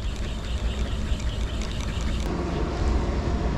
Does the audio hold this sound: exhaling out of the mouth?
no